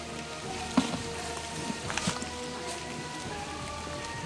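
Steady rain falls in an outdoor setting, a continuous soft patter with a few brief louder knocks, moderate and unbroken throughout, with no talking.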